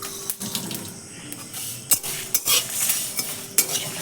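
Mango pieces coated with turmeric and salt fry in a pan, making a steady close sizzle broken by several sharp utensil knocks and clatters against the pan.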